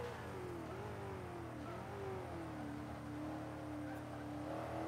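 A Dodge Viper's engine drones steadily during a race in Forza Motorsport 5, a loud continuous roar whose pitch rises and dips slightly with throttle, with no talk over it.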